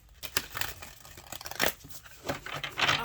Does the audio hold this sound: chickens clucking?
no